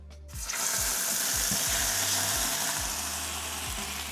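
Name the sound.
boiling water poured into a hot frying pan, sizzling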